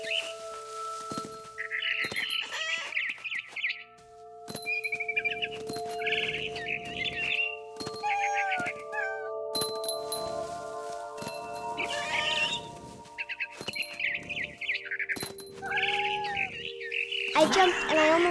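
A barn swallow in What Remains of Edith Finch twitters in repeated bright chirping bursts over a sustained musical drone, broken by soft thumps and rustling movement, continuing on and off throughout.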